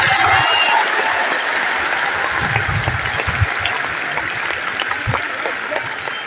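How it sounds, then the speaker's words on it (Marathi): A large crowd at an outdoor OBC reservation political rally in Ambad claps loudly and continuously, a dense wash of applause that holds steady with only slight fading. "सगळ्यांनी एकदा जोरदार टाळ्या वाजवून छगन भुजबळ साहेबांचं अभिनंदन करूया।"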